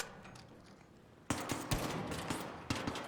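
Gunfire in the video game Arc Raiders crackles in short sharp bursts, several loud shots spaced unevenly over a hissing background.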